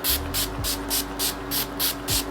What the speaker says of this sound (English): Oh, I did not know that was going to spray that hard.